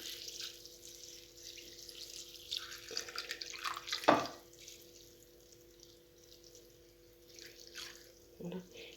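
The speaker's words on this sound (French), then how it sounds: "Nous allons donc mettre de l'eau dans les vermicelles." Hot water poured from a tap or kettle over rice vermicelli for a salad, a faint trickling, splashing stream with a louder gush near the middle and quiet drips, a voice speaking softly at times.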